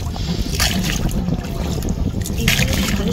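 A boat moves over open water on the Maithon reservoir, with steady engine and water rumble mixed with wind buffeting the microphone throughout.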